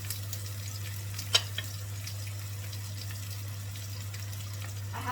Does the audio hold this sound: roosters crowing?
no